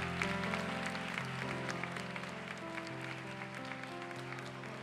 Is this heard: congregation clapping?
yes